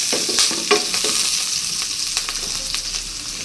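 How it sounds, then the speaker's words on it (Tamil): Sliced peeled carrots sauté in a hot pan, sizzling steadily while a spoon scrapes and stirs them in quick, irregular strokes up close, with no talking. "நல்லா மிக்ஸ் பண்ணி நல்லா வதக்கிக்கலாம்."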